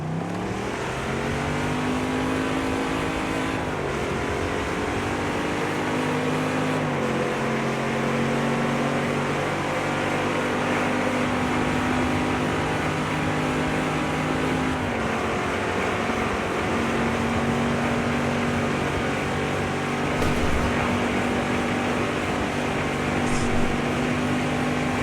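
Trophy trucks racing off-road in the video game Baja Edge of Control HD, loud steady engine drone with shifting pitch as the trucks rev and change gear, continuous throughout.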